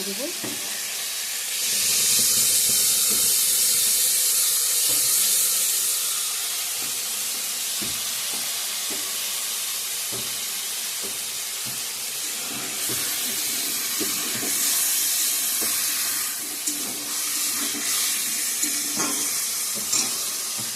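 Food fries with turmeric in a pan, a close sizzle and hiss that swells into louder bursts of steam while stirring and scraping tap along underneath.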